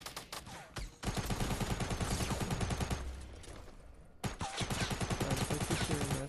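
Rapid gunfire rattles in the video game Fortnite, loud sustained bursts of machine-gun shots broken by a brief lull before the firing resumes at full intensity.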